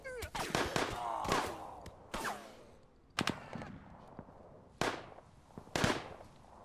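Gunfire in a World War I trench-digging colony simulator game, with a machine gun among the weapons, heard as sharp cracks and short bursts, some in quick clusters and others spaced apart, with faint tails and no talk.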